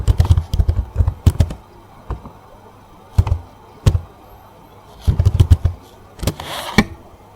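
Clicky computer keyboard typing a figure caption in a word processor, close and fairly loud, coming in quick bursts of keystrokes separated by short pauses, with no talking.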